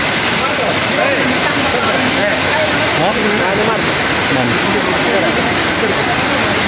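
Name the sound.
underground river waterfall rushing inside a dark cave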